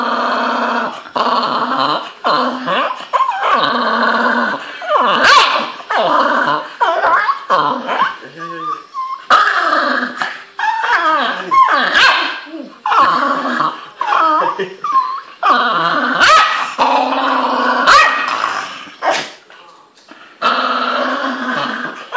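A Jack Russell terrier growls, snarls and yaps continuously at close range, mixed with people laughing and talking in a room.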